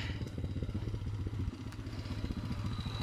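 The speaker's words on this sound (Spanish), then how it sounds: "vamos a apreciar que viene una moto por, sí, para abajo" A motorcycle coming downhill chugs steadily nearby with a rough, pulsing low rumble and some clattering, holding a fairly constant pace.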